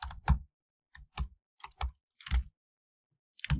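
Code being typed on a computer keyboard, sparse clusters of sharp, close key clicks separated by short silent pauses, with no speech.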